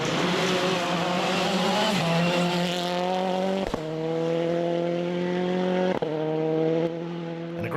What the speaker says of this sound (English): Mike Young another 7 seconds back in his Toyota